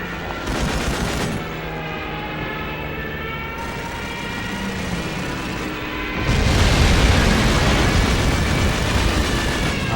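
Bomb blasts and rapid gunfire from the World War II shooter game Call of Duty 2 form a dense, continuous barrage that grows louder and heavier partway through, with no pauses between shots and explosions.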